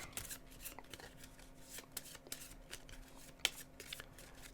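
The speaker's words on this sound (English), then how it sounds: "So we need to shuffle his deck." A deck of cards for a Star Wars Clone Wars board game being shuffled: quiet, close riffles and soft snaps in short repeated bursts, with no talking.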